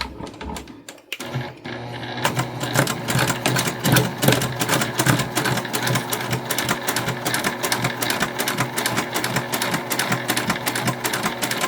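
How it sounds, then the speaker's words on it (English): A sewing machine top-stitches along the open end of a card lanyard case to close it, running in a steady, fast rhythmic stitch after a brief pause at the start, loud and close with no talking. "we're just gonna top stitch right along that to close it off"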